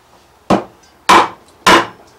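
Three sharp, evenly spaced mallet raps drive a chisel into wood while cutting a mortise for joinery, each a loud close knock with a quick decay.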